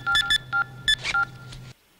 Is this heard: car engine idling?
no